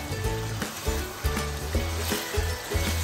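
Chicken pieces sauté in hot oil in a pan for murgh chole, giving a steady close sizzle broken by regular scraping stirs, with no voices.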